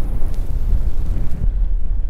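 Strong wind buffets the microphone outdoors by the water on Randall's Island, a loud, continuous low rumble with gusty fluctuations and no talk.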